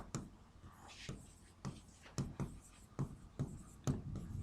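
Pen or chalk writing by hand comes through as faint, rhythmic scratchy strokes, about a dozen short bursts separated by brief pauses, with nothing else around it.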